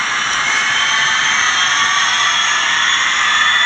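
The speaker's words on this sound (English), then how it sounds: "the engine sound speeds up there as the engine speed increases" A Bachmann DD40AX HO scale model locomotive with a Soundtraxx sound decoder gives a steady, loud, hissing diesel engine drone that stays constant throughout with no pauses and no voices.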